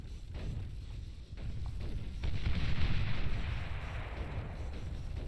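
Artillery in the strategy game Beyond All Reason shelling a fusion reactor: a continuous rumbling barrage of deep booms and blasts blending into a loud, steady roar with no distinct gaps.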